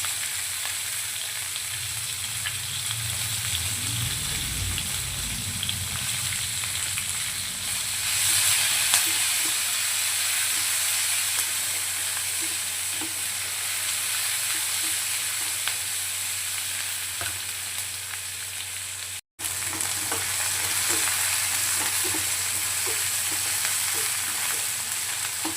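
Garlic cloves fry in spiced oil for a Bihari-style mutton curry, a steady broad sizzle with soft stirring scrapes that swells and brightens partway through, then carries on after a brief dropout.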